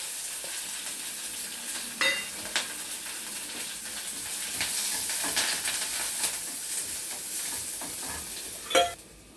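Onions frying with mustard seeds, cumin, green chili and curry leaves, a constant bright sizzle with intermittent spatula stirs and clinks, one sharper scrape near the end.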